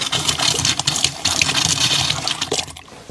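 Water runs steadily from a shower mixer tap in a house, a loud, close, continuous splashing rush that holds for several seconds before easing slightly, with no talking.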